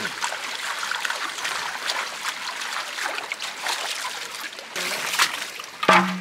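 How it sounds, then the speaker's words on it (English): Water sloshes and splashes in a full gold prospecting pan being swirled outdoors, a steady close trickling wash with a few brighter splashes near the end. "nice full pan just splashing it around"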